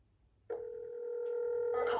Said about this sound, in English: I'm gonna just call him real quick.